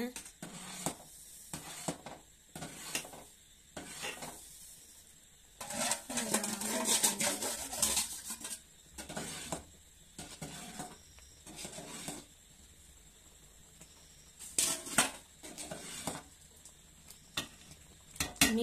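Food stirred continuously in a cooking pot, heard as bursts of scraping and rattling strokes separated by quieter gaps, with people talking in between.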